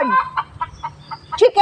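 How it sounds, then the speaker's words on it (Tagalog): Laying hens at a backyard coop in the Philippines cluck in a series of short, fairly close calls, rising into louder, sharper squawks near the end. "ayan na naman yung interrupt mga manok ko, nag-itlog kasi mga inday"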